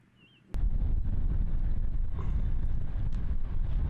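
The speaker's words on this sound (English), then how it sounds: "You can see the wind is picking up, and you can hear the wind picking up." Gusty wind buffets the microphone outdoors on a disc golf course, a steady low rumble that jumps in abruptly after a quiet start and holds loud and constant to the end, with no talking.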